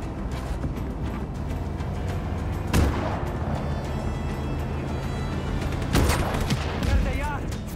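Gunfire in the video game Just Cause 3 goes on through a dense battle din, with a couple of louder sharp blasts standing out amid the ongoing shooting and noise.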